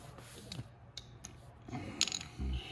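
A hand ratchet tightens bolts on the top end of a 200cc GY6 motor, giving short bursts of close clicking with a few sharper metallic knocks, quiet and intermittent.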